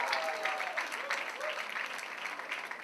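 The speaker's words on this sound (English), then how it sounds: "Please put your hands together for him" Steady applause from an audience at a book launch fills the whole stretch, dense and even, with faint bits of voice mixed in.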